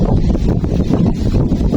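Strong wind buffeting a microphone on the water during a fishing trip on choppy, windy water, a steady low rumbling roar filling the whole moment with no voices.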